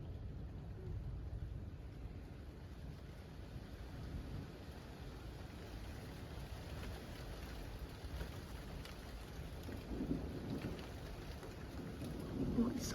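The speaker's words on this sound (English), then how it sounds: "Oh, it's starting to rain inside the house." Rain falls steadily during a lightning storm, a faint, even hiss of drops with low rumbling swelling near the end, heard from indoors.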